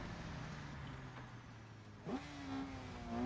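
A car engine in a video game idles with a low steady hum, then revs up sharply and holds a rising, higher-pitched drone, fairly close and alone without talk.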